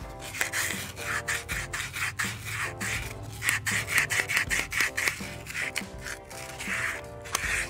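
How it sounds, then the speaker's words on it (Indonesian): Hand sanding a custom-fabricated part's surface, steady back-and-forth rubbing strokes with sandpaper, close and fairly loud, continuous with rhythmic scraping bursts and no talking. "di sini saya mau mengamplas permukaan ini"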